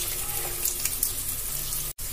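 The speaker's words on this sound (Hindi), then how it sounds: "अब मैं इसमें डालूंगी बादाम।" Almonds go into hot oil with frying onions and slit green chillies for a poha snack, giving a steady close sizzle and crackle that runs unbroken apart from a brief silent gap near the end.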